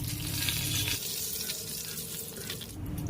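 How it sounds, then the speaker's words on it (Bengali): Two torn bay leaves drop into hot oil left from frying potatoes for hilsa fish tel jhal, giving a steady, fairly loud sizzle and crackle throughout. "এবার আমি এই তেলেই দিয়ে দিচ্ছি দুটো তেজপাতা"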